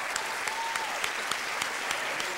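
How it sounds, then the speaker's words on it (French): Steady audience applause at a school cultural gala, a dense, even wash of many hands clapping, moderately distant, with faint voices underneath. "une autre bonne main d'applaudissements à nos animateurs cette année"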